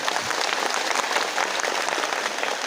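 An audience at a political gathering applauds loudly, a dense and continuous wash of clapping that stays steady throughout.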